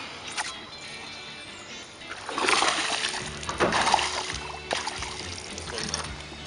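A small, chunky bass splashes and thrashes at the surface after hitting a peanut butter and jelly tungsten jig on the Mississippi, making loud close bursts of churning water amid lighter trickling between them.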